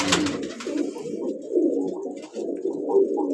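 Racing pigeons coo in low, soft, rolling phrases that repeat steadily at close range, with no talk over them.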